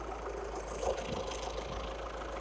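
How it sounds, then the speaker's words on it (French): An Audi TDI diesel engine idles just after starting, a steady low rumble with a faint knocking texture, close and continuous without any voices. "Voilà, moteur en route."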